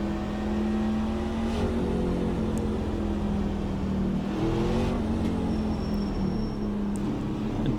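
NASCAR truck engine in the iRacing sim at Richmond, revving steadily at the race start with a sustained droning growl and rising, falling pitch, loud and continuous with no talk.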